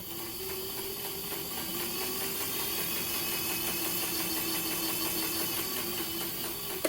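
A sewing machine runs steadily, stitching a seam corner to corner on a farmhouse-style fabric project, with a continuous mechanical whir and rapid needle rhythm throughout, no voices.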